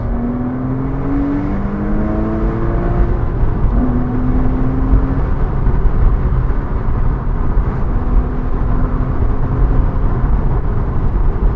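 From inside a 2005 Porsche Boxster S, the engine holds a loud, steady drone, its pitch rising in stepped sweeps as the car accelerates hard, under constant road and wind noise.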